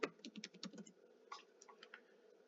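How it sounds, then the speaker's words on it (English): Keys tapped rapidly on a computer keyboard while typing a search query, a quick burst of close, light clicks in the first second followed by a few sparser, fainter keystrokes. "I'm just gonna type in gardening"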